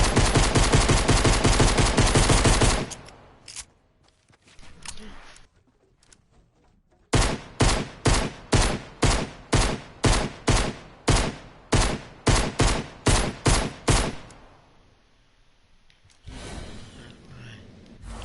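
Flashlight pistol shots in the Fortnite video game: a rapid volley of loud shots, a pause, then a steady run of about a dozen evenly spaced single shots and a final short burst.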